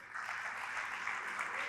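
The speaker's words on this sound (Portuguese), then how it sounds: "Se você crê nisso, aplaude o Senhor." A church congregation applauds in steady, dense clapping that fills the space at full strength from start to finish, with no break.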